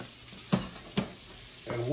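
Blanched green beans fry in a pan with a soft, low sizzle, broken by two sharp knocks of utensils stirring, and a voice begins speaking at the end.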